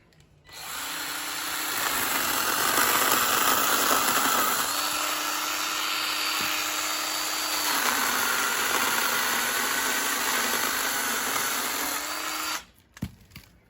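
A Parkside PGHSA 12 B2 cordless mini chainsaw whines steadily as it cuts through a dry branch about 4 cm thick, loud and close. Its pitch sags under load and recovers in a few cycles before it stops.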